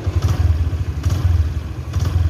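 A Honda Mega Pro motorcycle engine idles with a loud, close, rhythmic low thumping exhaust note and light mechanical clatter, steady throughout without talking.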